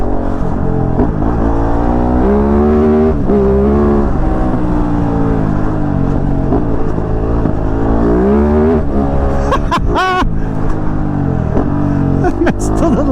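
A Kove 450 Rally motorcycle engine on a test ride roars loud and close throughout, its pitch climbing and dropping repeatedly as the rider revs through the gears.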